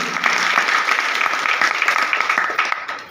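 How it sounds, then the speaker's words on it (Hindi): Audience applause at an AWPL meeting in Guna, a dense wash of many hands clapping steadily and close for about three seconds, loud and continuous with no talk over it. "एक बार जोरदार तालियां होनी चाहिए"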